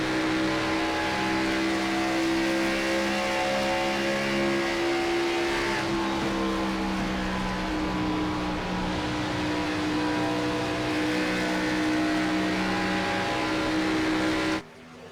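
Gen-6 Cup race cars, including a number 9 Camaro, roar around Kansas Speedway in a racing video game, a continuous, loud engine whine with shifting pitch that drops out abruptly near the end, with no talking.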